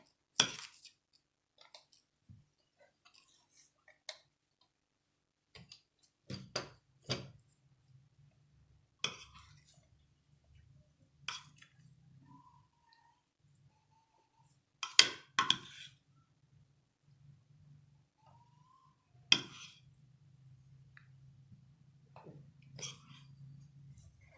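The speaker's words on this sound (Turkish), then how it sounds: "kaşıkla patatesimizi hamurumuzun üzerine yayıyorum" A spoon scrapes and taps while spreading mashed potato filling across rolled-out cookie dough, giving scattered sharp clinks and soft scraping over a low steady hum, with no talking.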